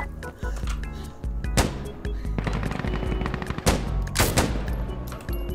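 Rapid automatic gunfire from the tactical shooter Insurgency, loud bursts of shots with several sharp single cracks, continuous and close, no talk over it.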